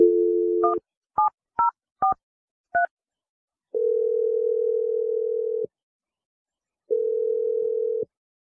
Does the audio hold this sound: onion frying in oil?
no